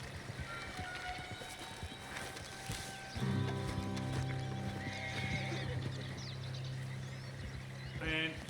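A horse in the video game Red Dead Redemption 2 whinnies and neighs loudly up close, with hoof clip-clop steps and faint birdsong in an outdoor setting, no talk over it.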